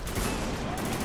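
A loud, dense burst of gunfire in the shooter Spec Ops: The Line fills this very short moment, heard close with no talking.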